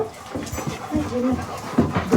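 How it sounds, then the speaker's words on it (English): Excited household dogs pant and whimper up close as they are let out, with brief human talk in the background. "Okay, let the dogs out."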